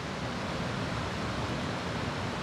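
The Cascada la Reforma waterfall gives a steady, broadband roar of falling water that stays loud and unbroken throughout, with no voices over it.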